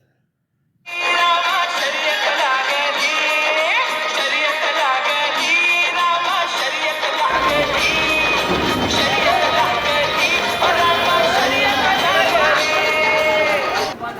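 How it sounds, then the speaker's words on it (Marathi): A large village crowd gathers at a bullock cart race during a festival, making a dense, loud, continuous babble of voices and shouts with music-like tones woven through, steady throughout after a brief silent start. "शर्यत आहे हे म्हणले की लोक अलोट गर्दी करतात."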